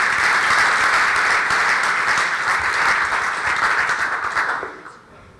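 Loud, dense audience applause at a startup competition conference, sustained clapping that fades out over the final second.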